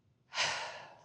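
A single deep breath during a yoga stretch, drawn in and slowly released: a soft, airy exhale that rises quickly and fades gently over about a second, close and quiet, with no talking.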